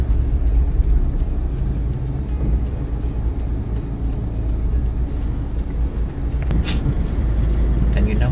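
Bumper-to-bumper traffic with large vehicles on a road in Ghana, giving a continuous loud low engine rumble with passing motors and a brief hiss partway through, with no other sounds standing out.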